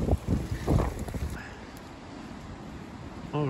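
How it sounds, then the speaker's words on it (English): Gusty wind buffets the microphone in low rumbling bursts on a seafront in November, loudest at the start, then eases to a steady outdoor rush. "It's windy."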